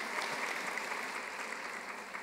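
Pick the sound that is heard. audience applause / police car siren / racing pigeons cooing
audience applause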